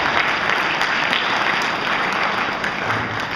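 Audience at a Pittsburgh Democratic mayoral candidate debate applauding steadily, a dense sustained wash of clapping from a crowd with no talk over it.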